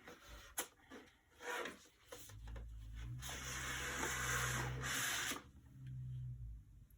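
Shaving cream is scraped off a marbled print on paper with a flat edge, producing close rough rubbing strokes, a couple of long sustained scrapes with a low hum underneath.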